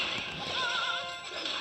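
Hog rider charging and striking in Clash Royale, a brief busy burst of game effects with a whip-like crack and squealing tones, loud and steady for under two seconds with no talk.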